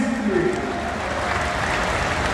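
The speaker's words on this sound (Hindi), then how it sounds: "एक बार आगे जोर से ताली बजाइए धर्मवीर जी" A large rally crowd claps in a continuous wash of applause, with a speaker's voice over a public address system audible early on.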